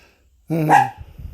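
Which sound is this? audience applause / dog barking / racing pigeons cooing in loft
dog barking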